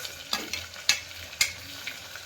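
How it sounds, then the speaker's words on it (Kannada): Potatoes fry in a home kitchen pan with garam masala, a soft sizzle broken by several sharp scraping stirs of a spoon at irregular intervals. "ಈಗ ಪೊಟ್ಯಾಟೊ ಹಾಕಿ ಫ್ರೈ ಮಾಡಕತ್ತಾರ"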